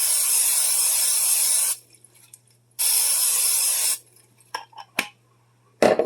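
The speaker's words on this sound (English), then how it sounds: "And then spray it well." Cooking spray is sprayed onto a salted frying pan in two long, loud hissing bursts with a pause between them. A few clinks and small kitchen knocks follow after the spraying.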